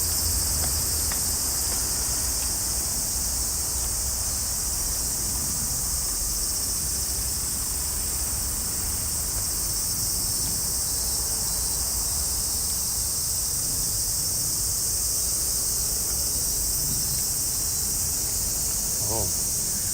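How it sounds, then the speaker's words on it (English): Loud, dense cicada chorus in Tokyo, Japan, a steady high-pitched buzzing that fills the whole stretch without pause, with faint low background noise beneath. "Oh, here there are lots of cicada. Extreme buzzing here."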